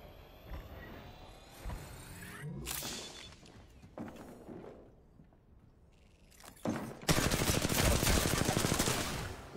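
Automatic weapon fire from the battle royale game Apex Legends, with bursts and shots scattered through the clip and a dense, loud stretch of rapid fire at the end, mixed with other game sounds.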